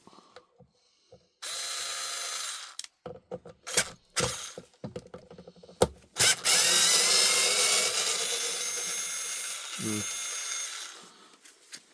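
A power drill drives a screw back into a Kirby Sentria vacuum, with short bursts and then a longer sustained whir, broken by clicks and handling noises close by.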